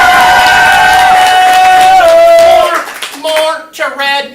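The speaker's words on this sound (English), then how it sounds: "Red team, applaud now." A comedy improv audience cheers and applauds loudly for the red team, with dense clapping and shouts for about two and a half seconds, then the noise breaks into scattered bursts of whoops and calls that fade and flare.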